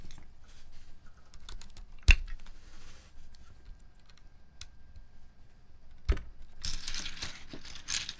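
Typing on a mechanical keyboard fitted with MX Black switches with kale stems and a PP half plate, sparse clacks with two sharp louder strikes and a brief flurry near the end, close and fairly quiet with no talking.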